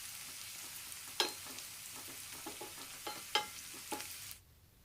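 Onions and potatoes fry in a pan with a steady close sizzle, broken by a handful of sharp clinks and scrapes as they are stirred, before the sound cuts off abruptly near the end.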